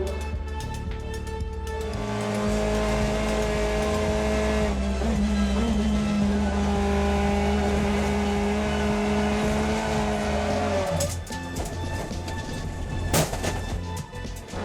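A BTCC touring race car powers out of a chicane at full throttle, a loud, sustained engine howl that rises through the gears, then cuts to sharp backfire-like pops and crackles on the overrun.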